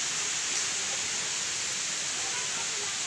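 Steady broadband rush of a flowing river at Tanauan, Batangas, continuous and fairly loud at close range, with no clear voices over the water.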